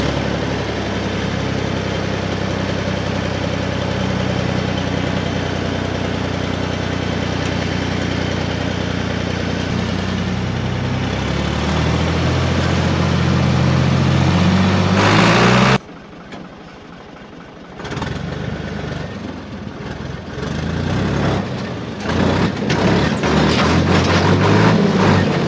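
A tractor engine idles with a steady, loud mechanical drone on a livestock farm, then drops out briefly before rising again as the throttle is opened to lift the manure tamper, running rough and close.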